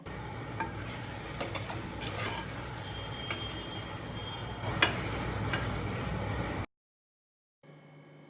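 Carrot halwa with crushed cardamom and fried dry fruits is stirred in a clay pot, giving a steady scraping and sizzling texture with occasional spoon knocks, then a brief silence before quieter stirring resumes.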